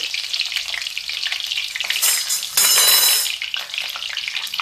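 Hot oil poured over eggplant, onion and garlic in a kadhai, a steady hiss of frying that swells into a louder burst of sizzling before settling back, close and continuous without talking.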